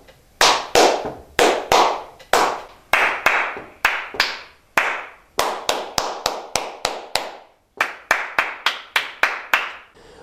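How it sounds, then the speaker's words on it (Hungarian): Sharp hand claps form short rhythmic patterns in groups separated by brief pauses, crisp and close in a quiet room during a rhythm exercise at a conductive-education college aptitude exam, with no talking. "Tapsolni fogok rövid ritmusokat, pontosan az én tempomban tapsolja vissza ugyanazt, vagy kopogja, ahogy kényelmes."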